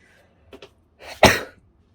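A single harsh cough, preceded by a short throat noise, close and fairly loud in an otherwise quiet room.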